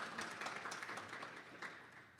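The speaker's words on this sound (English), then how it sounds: "We have Cedric from Zoom, round of applause" Faint, distant audience applause at a macOS security conference as a presenter is introduced: a dense, steady patter of many hands that stays even and low throughout.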